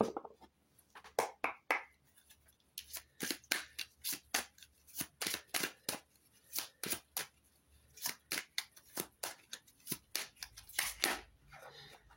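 Tarot cards being shuffled and handled during a Business Tarot reading, a long run of dense, crisp riffling flicks and snaps in quick bursts, close and fairly loud, with no voices.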